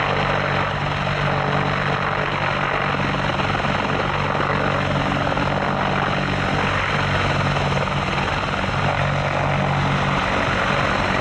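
A British Army Apache attack helicopter roars loudly and steadily with a deep rotor thump at an airshow display, close overhead and continuous throughout.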